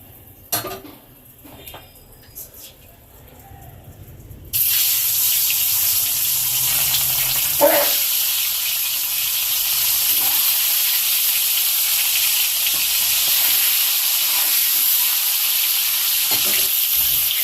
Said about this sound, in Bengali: তেল গরম হয়ে গেছে, এবারে ডিমগুলো দিয়ে দেওয়া হবে।